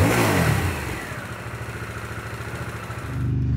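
A Harley-Davidson Sportster S with its stock exhaust revs and rumbles in a deep, steady drone. The engine is loud at the start, eases back through the middle, then swells again toward the end.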